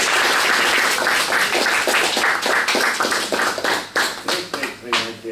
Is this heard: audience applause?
yes